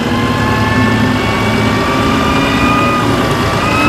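A steady, loud engine drone from an STI crane truck idling up with the PTO engaged, with a constant low rumble and whining tonal hum running throughout without talk.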